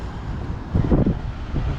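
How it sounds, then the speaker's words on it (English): Strong wind buffeting a GoPro microphone outdoors in a city centre, a steady low roar that swells to a louder gust halfway through, with no voices. "It's quite windy now, so the audio might not be very good."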